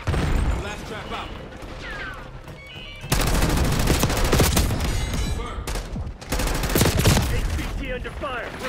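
Gunfire fills a Call of Duty Black Ops 6 beta match, with dense automatic bursts and rapid shots that are loud and close, separated by short pauses, and game dialogue plays over the shooting.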